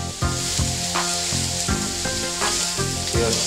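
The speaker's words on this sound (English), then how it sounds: "I'm going to stir on the grill. Let's get her caramelizing a bit there." Teriyaki beef with sesame seeds sizzles steadily on a grill while being stirred, with repeated scraping strokes about every half second over a continuous loud frying hiss.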